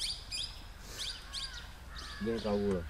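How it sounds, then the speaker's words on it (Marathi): Several wild birds singing in the Tadoba jungle forest, with bright overlapping chirps and trills that come and go throughout, plus a lower warbling call near the end over a steady background hum of the woodland. "जंगलामधून कानावर पडणारे विविध पक्ष्यांचे मधुर स्वर मन प्रसन्न करत होते"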